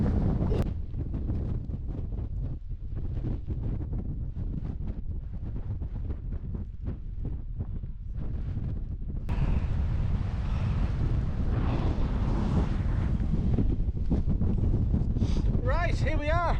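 Strong gusty wind buffets the microphone on a windy fell summit in the Lake District's Martindale area, a loud continuous roar and rumble with no break throughout.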